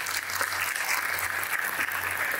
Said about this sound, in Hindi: जिस प्रकार से ताली मार रहे हैं